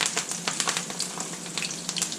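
Hot oil sizzles loudly in a pan as parsley fries, crackling and popping in quick irregular bursts close up.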